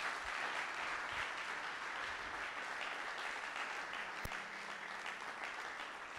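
Audience applause at a gathering, a steady, dense wash of clapping that carries on without a break for several seconds at an even level, with no voices over it.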